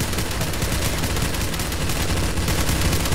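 Constant dense gunfire from many weapons in a Counter-Strike: Source zombie escape round, loud and unbroken with no pauses and no voices.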